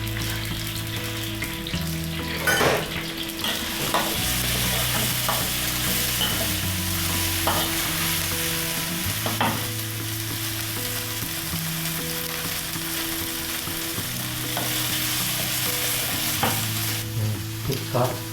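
Thai holy basil chicken, pad krapow, stir-fried in a hot pan with oil, chili sauce and fresh kaprao basil: a loud continuous sizzle broken by repeated scraping stirs and clanks of the utensil, with no voices.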